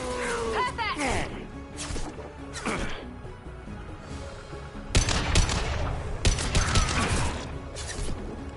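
Gunfire and impact crashes in the Mass Effect video game, with bursts of shots and smashing hits that grow louder in the second half, and voices speak over the action.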